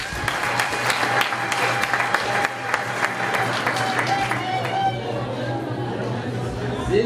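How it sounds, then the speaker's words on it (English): Wedding guests applaud the couple at a reception in Calgary, Canada, a dense sustained clapping from a room full of people mixed with chatter, strongest early and tapering off toward the end. "let us give them a round of applause"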